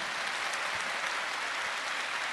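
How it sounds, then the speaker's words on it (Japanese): Audience applause at a Nagoya Grampus new-team presentation event, a steady wash of clapping from a crowd that holds evenly throughout without any voices over it. "まずはこの3選手に大きな拍手を送りください"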